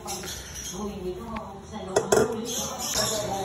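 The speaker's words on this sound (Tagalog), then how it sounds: "dahan-dahan lang natin ilagay at i-mix natin ng maigi" A utensil clinks and scrapes against a bowl while cake flour batter for puto is mixed, with a few sharper knocks near the middle and a voice talking throughout.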